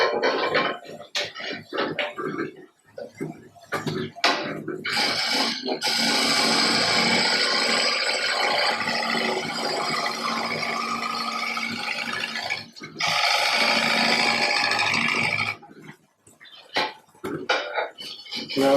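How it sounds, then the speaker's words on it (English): A shear scraper with a slightly rounded edge takes light cuts on a green-wood bowl spinning on a lathe, giving a steady hissing scrape in two long passes separated by short gaps and scattered knocks. "Oh yeah, shear scraping. Okay, shear scraper, slightly rounded"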